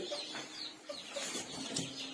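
Many newly hatched chicken chicks peep inside an incubator in a soft, continuous high-pitched chatter, overlapping chirps close by with faint background noise.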